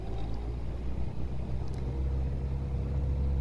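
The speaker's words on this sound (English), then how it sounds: "I don't know if you can hear in the background that Anders is trying to increase the speed" Low, steady engine drone from a sailboat's auxiliary motor being pushed for more speed, a continuous rumble with harmonic hum that never rises in pitch, as if struggling, with no talk over it.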